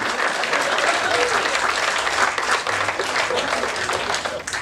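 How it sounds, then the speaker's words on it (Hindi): Applause from a live audience at a Haryanvi comedy poetry recital, a steady wash of clapping that holds fairly loud and even throughout with no talk over it. "5 लोगों ने ताली बजाई है टोटल"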